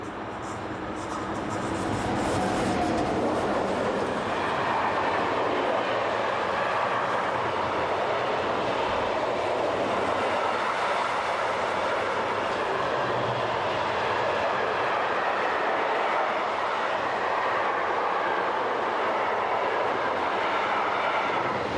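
Electric locomotives haul an Italy-bound mixed freight train on the Brenner line, a continuous heavy rumble and rolling clatter of wagons building up and holding steady, loud and fairly close, with no voices.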